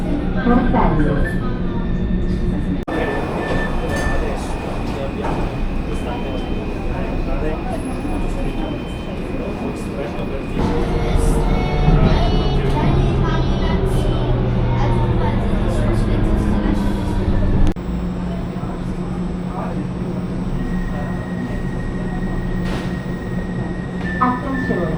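A Milan metro train running from Linate Airport toward the city centre makes a loud, steady rumble and roar from inside the car, with sustained motor whines and brief shifts in tone along the ride, while announcements and voices are faintly heard.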